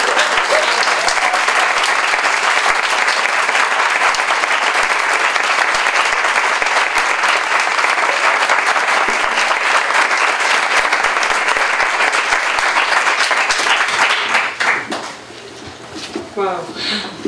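Sustained, loud applause from an audience welcoming the author at a book launch on public-private partnership for WTO dispute settlement, dense and steady for about fourteen seconds before thinning out near the end.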